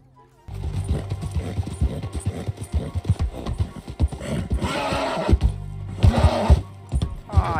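Hooves clop rhythmically while a horse snorts and whinnies, and people shout excitedly over the sound.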